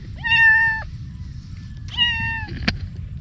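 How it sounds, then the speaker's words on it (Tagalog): A cat meows twice outdoors near a calamansi tree, two clear, drawn-out, fairly close cries separated by a short pause, followed by a brief sharp knock against soft background noise. "Oh, dito may pusa rin eh."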